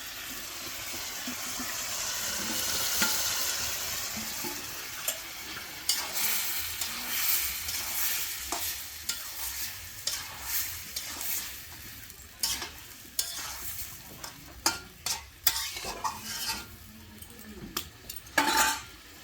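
Potatoes stirred and fried with mutton in a pot: a constant sizzle under repeated scraping and clanking of a metal spoon against the pot, the stirring strokes growing more frequent and louder toward the end.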